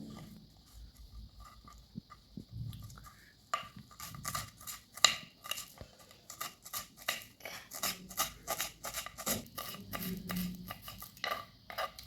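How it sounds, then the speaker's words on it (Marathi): Green chillies finely chopped with a knife for egg bhurji, a run of quick sharp taps on a board that speeds into dense rapid chopping, close and fairly loud, with no talk. "आता आपण मिरच्या बारीक असे चिरून घेऊया"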